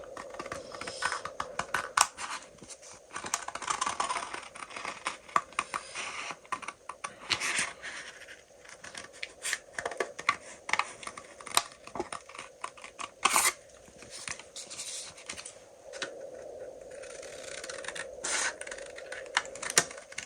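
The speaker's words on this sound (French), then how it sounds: "Donc là, on découpe bien la pièce." Scissors cutting out a paper pattern piece for a sewing project, a series of crisp irregular snips and paper rustles at close range, fairly quiet, with no talking.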